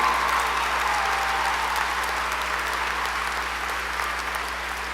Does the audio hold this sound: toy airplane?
no